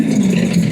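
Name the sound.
Kawasaki Ninja 250 motorcycle engine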